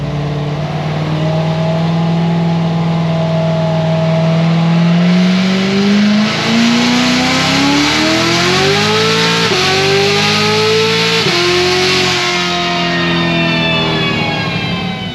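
A cammed Corvette C7 Z06 with a ported supercharger revs hard through a pull on pump gas, its loud engine note rising steadily and stepping up through gear changes, with blower whine on top.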